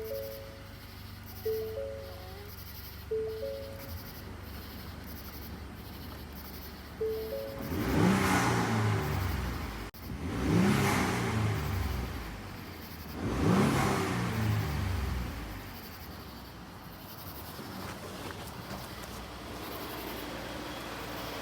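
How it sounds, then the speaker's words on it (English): A tuned-up turbocharged truck engine, not yet tuned, revs three times in strong, rising bursts, each swelling and falling back to a low idle, with a faint turbo whine. "you will be able to hear the turbos a little bit more anyway"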